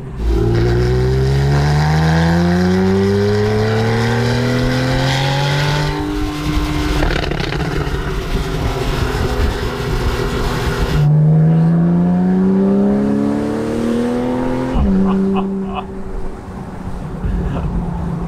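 A powerful Porsche Cayenne GTS V8 with sport exhaust accelerates hard through several gear changes, its pitch repeatedly climbing and dropping, loud and close with a deep exhaust roar.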